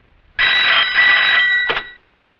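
A telephone rings once at a police station in a Hindi film, a loud, close electronic trill lasting about a second and a half, followed by a short click.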